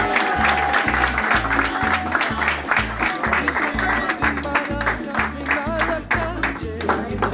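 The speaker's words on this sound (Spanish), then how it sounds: "Un aplauso." An audience claps at a Christmas event in a children's hospital in Puerto Rico, applause sustained and fairly loud throughout, mixed with steady rhythmic music in the background.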